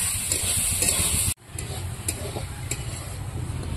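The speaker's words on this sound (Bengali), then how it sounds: "নারকেলটা ভাজা হয়ে গেছে, এখন আমি নামিয়ে দেব।" Grated coconut fries in a pan with a soft continuous sizzle and occasional stirring taps, cut by a sudden break before resuming at a slightly quieter level.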